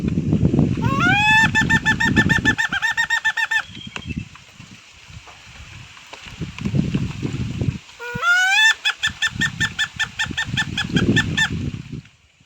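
A male red junglefowl crows twice in a forest setting, each call a loud, drawn-out rising-then-sustained cry, with rustling and handling noise between the crows.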